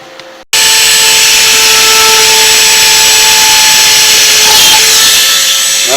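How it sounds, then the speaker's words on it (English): A power drill whines loudly and steadily close by in a boat's engine room, kicking in after a brief pause and running without letup to the end. "That's how you drill a hole."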